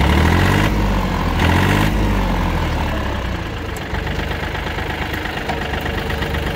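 A Yanmar FX265 26 hp tractor fitted with a fork lift idles steadily, a loud, close, chugging diesel rumble that runs unbroken for the whole stretch.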